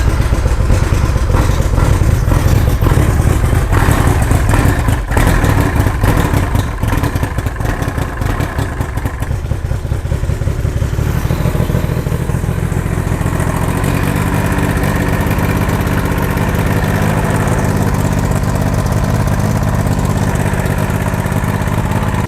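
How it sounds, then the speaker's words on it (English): An old outboard boat motor under repair runs loud and close, a steady rough clattering drone that shifts to a smoother, lower hum about halfway through, with no talking. "So we're gonna run the motor and see if this thing lights up."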